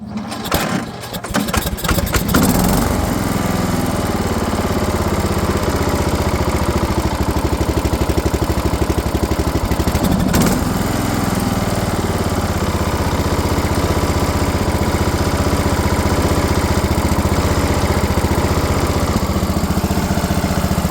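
Tow-behind mower engine with exhaust escaping through the carburetor, running loud and steady with a rough, rapid chugging idle after a sputtering start, continuous and close.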